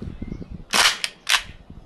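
A Tokyo Marui AKM green gas airsoft rifle fires, emptying its magazine: two loud sharp bursts close by with a short crack between them, over low background noise and no talking.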